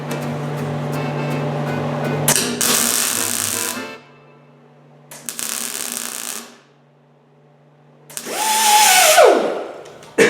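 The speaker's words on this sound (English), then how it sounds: "Now grinding, you know, a MIG weld is a lot harder than a TIG weld." A grinder works a MIG weld on metal in loud, rough bursts, with two sustained grinding passes separated by short quiet gaps, then a third run that ends in a whining spin-down.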